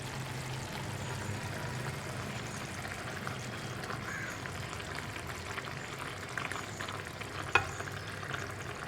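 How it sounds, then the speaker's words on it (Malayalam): A simmering egg roast gravy bubbles and sizzles gently in a pan as whole eggs are added, a soft, continuous crackle with a brief clink near the end, close and quiet, with no talking. "ഇനിയിപ്പോൾ ഞാൻ ഈ തിളയ്ക്കുന്ന ഗ്രേവിയിലേക്ക് നമ്മുടെ മുട്ട ചേർക്കാൻ പോവുകയാണ്."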